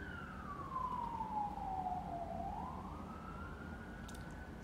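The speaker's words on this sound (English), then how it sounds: "Sorry about the sirens." A distant siren wails in a slow falling then rising sweep over a steady low rumble of traffic.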